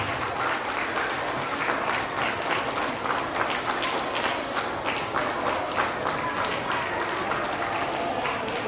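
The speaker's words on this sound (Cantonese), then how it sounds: "請大家咧一次過俾啲掌聲" An audience at a school end-of-year award ceremony claps for award-winning students, a sustained, even wash of applause from many hands, moderately distant and unbroken by talk.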